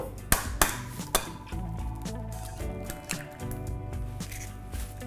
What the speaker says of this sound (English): pop the rest of the eggs in